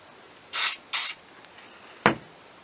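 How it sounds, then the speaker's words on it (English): Two short bursts of aerosol coating hiss from a spray can onto a brush, close and distinct, followed by a brief sharp knock in an otherwise quiet room. "you can spray just some on the brush."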